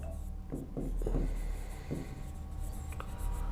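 Pen writing on paper while working a maths problem, a series of quick scratchy strokes at close range with short pauses between them, fairly quiet against a low background hum.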